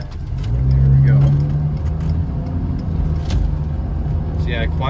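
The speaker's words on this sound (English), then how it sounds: "I can actually start to hear the power steering pump screaming for dear life when I rev it" A 1994 Saturn SC2 coupe engine revs up loudly and holds a steady drone, with a high whine from the power steering pump riding over the low rumble and a brief squeal near the end.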